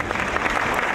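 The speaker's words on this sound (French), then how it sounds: "Lui donner la parole sous vos applaudissements" An audience applauds to welcome a speaker at an event, a brief stretch of dense, continuous clapping at a steady moderate level.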